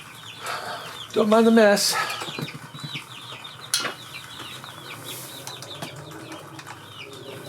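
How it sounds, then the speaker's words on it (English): Small chickens kept in a garage cluck and squawk, with a burst of wing flapping as one tries to escape, mixed with nearby rustling and a person speaking briefly. "Hold on, chicken's trying to escape"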